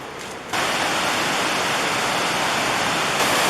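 Mae Ya Waterfall at Doi Inthanon, Chiang Mai, roars as a loud, steady broadband rush of falling water, rising suddenly after a quieter opening half second and holding constant throughout.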